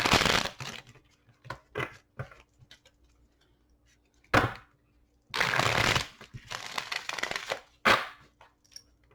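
Tarot cards being shuffled close by in several quick riffling bursts separated by short pauses, no one speaking.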